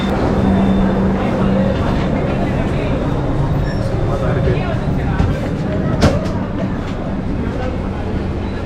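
Superfast express train at a busy Chennai station, a steady loud rumble of rail and platform noise with people talking throughout.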